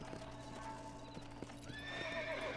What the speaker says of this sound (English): This is a beautiful horse.